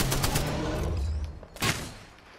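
Bursts of automatic gunfire in a battle royale game, a rapid volley at the start that thins out, then one sharp louder shot near the end, with no talking over it.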